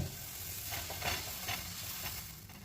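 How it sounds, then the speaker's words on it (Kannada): Sago dosa batter sizzles and crackles steadily on a hot pan, with soft spreading and scraping strokes coming through at intervals, up close and without talk. "ಸಬ್ಬಕ್ಕಿ ದೋಸೆ ಹಾಕ್ತಾಯಿದ್ದೀನಿ."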